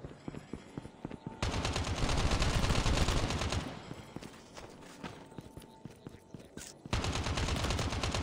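Rapid bursts of gunfire in Call of Duty Mobile battle royale crackle in sustained volleys, separated by quieter stretches of scattered shots and clattering steps.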